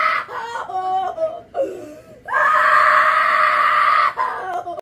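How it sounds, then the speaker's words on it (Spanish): A man's scream as he is caught by a monstrous creature in a Batman audio drama: a loud, close, strained cry that rises into a long sustained shriek, with shorter yelps before it and no other talk. "apenas pudo soltar un grito antes de que la criatura lo alcanzara"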